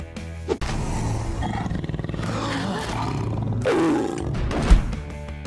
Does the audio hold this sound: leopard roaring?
yes